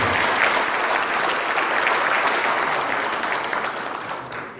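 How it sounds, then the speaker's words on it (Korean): A crowd at a year-end golf party gives a dense, loud wash of applause that holds steady and then eases off slightly toward the end. "다시 한번 박수 부탁드립니다."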